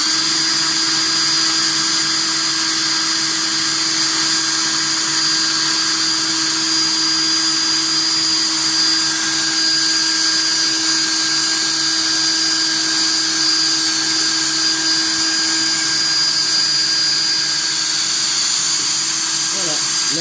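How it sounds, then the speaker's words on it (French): An electric drill runs a Clapton coil winding machine, wrapping 26/36 gauge wire in a steady, unbroken motor whine with a constant pitch. It stays close and fairly loud throughout, with no talking over it. "là j'ai bloqué la perceuse, je touche plus à rien"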